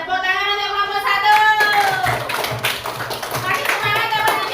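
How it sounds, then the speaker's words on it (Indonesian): Children in an Indonesian classroom clap for a group that has just finished presenting a science experiment on magnetizing a needle, bursts of quick hand claps and taps with children's voices and an adult voice. "Dan tepuk tangan untuk kelompok 1."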